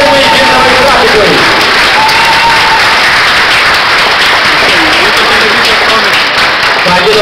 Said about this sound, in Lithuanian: Jūsų plojimai Gintarui Ratikui.